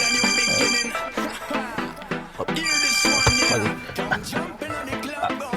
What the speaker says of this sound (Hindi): मैं अभी हातम को टेलीफोन करके पोजीशन मालूम करता हूँ।